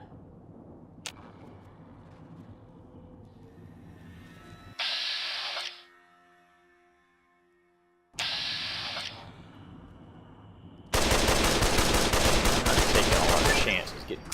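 Machine gun fire in Fallout: New Vegas comes in rapid automatic bursts: a short burst, a pause, another burst, then a long, loud sustained stream of rounds near the end.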